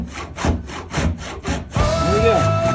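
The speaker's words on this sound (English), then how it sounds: "I'm still sawing." A saw cuts through a board in a steady rhythm of about six close, rasping strokes, then gives way to a scraping sound with a thin whining tone.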